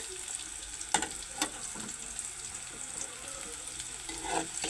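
Green chillies fry in a pan with a steady soft sizzle, broken by a few sharp crackles and stirring scrapes near the start and a louder burst toward the end; no one speaks.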